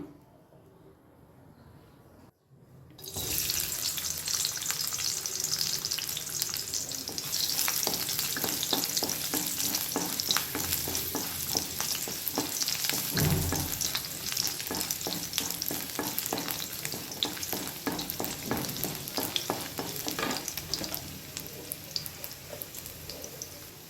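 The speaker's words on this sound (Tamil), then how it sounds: "இதை வந்து எண்ணெயில் சேர்த்து வதக்கிக்கலாம்" Chopped ginger and garlic hit hot oil for an egg curry and burst into a loud, steady sizzle after a brief quiet start, with occasional stirring scrapes continuing under the frying noise.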